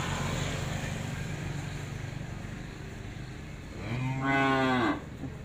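A cow in a herd of cream-colored cattle lets out one loud, drawn-out moo near the end, over a steady outdoor rumble and breeze.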